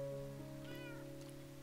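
Cats in the video game Minecraft give a short meow over a steady background tone of game music, faint and brief, with no talking.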